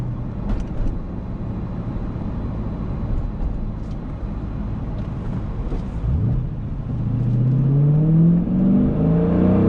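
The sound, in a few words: manual Dodge Challenger Scat Pack accelerating in second gear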